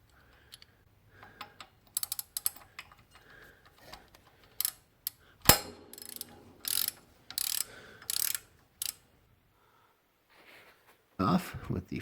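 A ratchet works loose the 6mm Allen head screws on the crankshaft pulley of a 1.5L diesel MK1 Rabbit, Jetta or Caddy, with bursts of close clicking, sharp metallic clacks and quiet gaps between.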